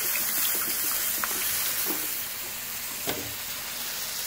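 Spring water, about half a pint, hits a hot pan of spice-coated chicken curry, hissing and sizzling steadily as it is stirred in, with faint scraping clicks.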